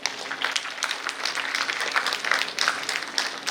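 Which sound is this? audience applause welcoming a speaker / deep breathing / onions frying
audience applause welcoming a speaker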